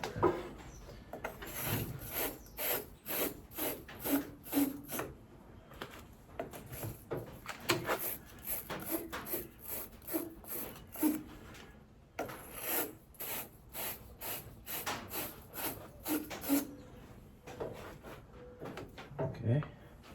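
Wire-brush battery terminal cleaner scrubbing the terminal of a 1960 Cadillac Series 62 battery, giving repeated short raspy rubbing strokes in bursts, close up, with a voice speaking over parts of it.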